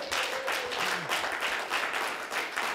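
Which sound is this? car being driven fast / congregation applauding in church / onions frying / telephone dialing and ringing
congregation applauding in church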